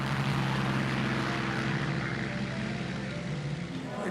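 Steady, loud propeller engine roar from a two-seater Spitfire in flight fills the whole few seconds with a deep, continuous drone, heard close up from inside the aircraft.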